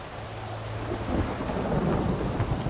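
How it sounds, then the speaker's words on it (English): A thunderstorm in The Witcher 3 rumbles with a low, heavy roll of thunder over dense steady rain, loud and close, with no voices. "A storm, damn it."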